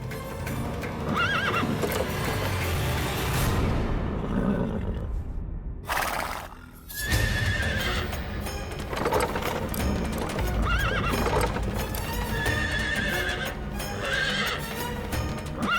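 Chariot horse from a Vikram Betaal story episode, standing stopped and refusing to move: loud, repeated neighing and whinnying over steady clip-clopping hooves, close by throughout, with a brief near-silent gap midway.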